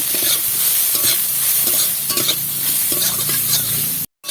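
Food with turmeric and chilli powder sizzles in a hot pan while a utensil scrapes and stirs in repeated strokes, close up, before the sound cuts off abruptly.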